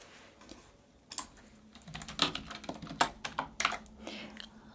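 Computer keyboard typed on in bursts of quick, crisp key clicks up close, starting sparse and growing denser and louder toward the end.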